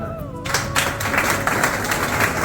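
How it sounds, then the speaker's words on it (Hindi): Audience applause at a talk on overcoming addiction, beginning abruptly after a brief moment of voice and continuing as a dense, steady patter of many hands clapping. "तालियां।"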